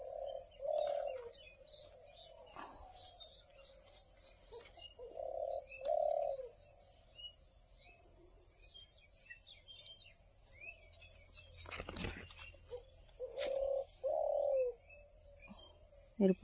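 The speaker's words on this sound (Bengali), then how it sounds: "দেখো, পাখিদের গুঞ্জন শোনা যাচ্ছে কত রকমের।" Many kinds of birds call around a garden tree, with repeated soft cooing and scattered chirps and tweets at a moderate distance, separated by quieter pauses over steady faint background noise.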